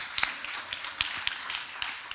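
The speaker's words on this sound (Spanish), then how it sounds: "Dele un aplauso al Señor Jesucristo" A church congregation claps in scattered, uneven bursts, with sharp close hand claps over a couple of seconds and no voices.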